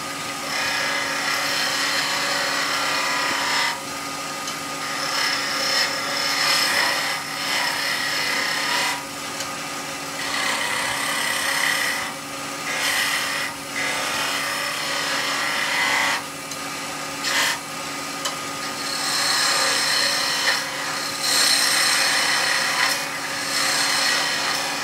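Skew chisel on a wood lathe cutting small V-cuts while turning a Christmas pyramid, a steady loud whirring rasp of the tool against the spinning wood, with brief dips and surges as the cut shifts, no talk.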